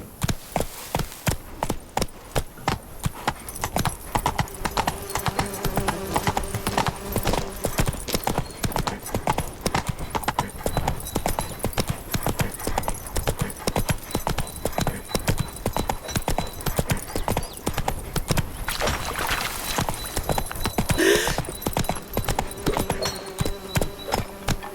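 Roach, Geralt's horse in The Witcher 3: Wild Hunt, gallops with a steady, rapid clip-clop of hooves that runs throughout, close and loud. A brief whinny comes near the end over game sound.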